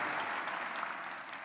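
A commencement crowd claps for the graduating class of 2022 in a dense, continuous wash of applause that holds steady and eases slightly toward the end.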